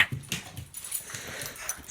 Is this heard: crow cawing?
no